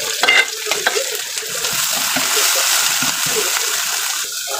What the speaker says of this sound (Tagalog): Lagyan na natin yung ating balon-balon na pinakuluan natin kanina.